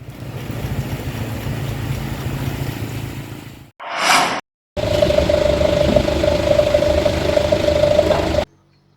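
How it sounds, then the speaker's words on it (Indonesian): A chainsaw run by a rapid-response disaster crew cuts through a fallen tree trunk on a street, with a loud, steady engine drone that cuts out briefly and then resumes at full power. "Menggunakan gergaji mesin, tim reaksi cepat BPBD Samarinda Sabtu siang menyingkirkan batang pohon tumbang"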